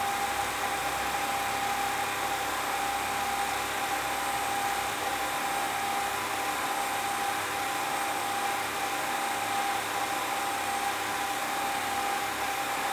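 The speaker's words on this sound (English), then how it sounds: "That is the sound of the metal disc vibrating at a very high rate." A charged metal disc vibrating at a very high rate in a Graviflyer replication experiment gives a steady, dense hum with a thin high tone on top, constant and unbroken throughout with no voices.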